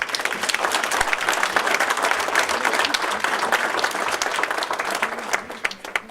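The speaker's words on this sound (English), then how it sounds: "So let's give our principals another round of applause." A roomful of people gives school principals a sustained round of applause, thick and even throughout before tapering into a few scattered claps at the finish.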